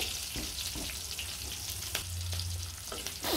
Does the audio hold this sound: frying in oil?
yes